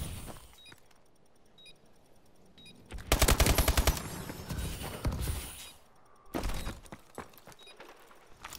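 Rapid automatic gunfire from a Call of Duty: Advanced Warfare search-and-destroy private match, loud bursts of shooting in two main volleys with mechanical clatter between, no talk.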